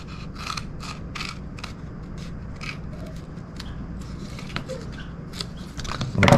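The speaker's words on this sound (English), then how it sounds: "Cut this stealth stripping" Scissors or a blade cutting stealth stripping for tree stand climbing sticks, a series of sharp crisp snips and clicks in irregular rhythm, close up, with a louder rustle at the end and no talking.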